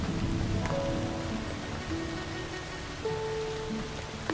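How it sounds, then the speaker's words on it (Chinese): Continuous steady rain falling, an even hiss of drops throughout, with faint sustained tones in the background. "下雨了"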